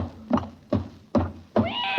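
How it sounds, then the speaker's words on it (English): A horse neighs and whinnies on a radio comedy show, with four sharp bursts in quick succession and a rising squeal at the end, loud and close with no voices over it. "Good heavens, there is a horse in the kitchen."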